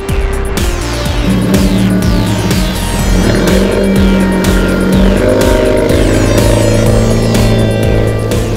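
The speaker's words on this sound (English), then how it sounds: "I'm at the Sonoma Raceway in Sonoma, California, driving an Alfa Romeo 4C." A 2015 Alfa Romeo 4C laps Sonoma Raceway in California, its engine loud and close, rising in pitch through repeated gear changes as it accelerates hard.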